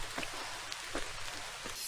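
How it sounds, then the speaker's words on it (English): Light rain begins to fall on a mountain trail in the Great Smoky Mountains, a faint, soft patter with a few scattered drop taps over quiet background hiss. "it's starting to rain"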